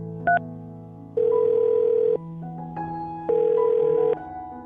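An outgoing telephone call from a radio studio rings: a brief dial blip, then two long electronic ringback tones separated by a pause, loud and clean against a low background.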